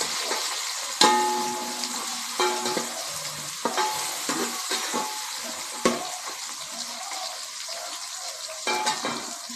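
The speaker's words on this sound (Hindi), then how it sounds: "अब हम इसमें ये प्याज ऐड करते हैं।" Onions hitting hot oil for a black chana curry, a close bright sizzle with repeated sharp scrapes and clacks of a spoon stirring in the pan, continuous with no talking.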